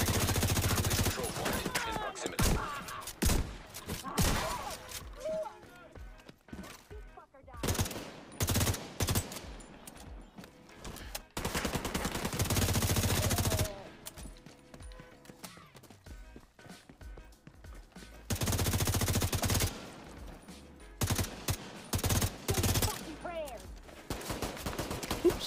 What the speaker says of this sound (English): oh my God, I'm getting shot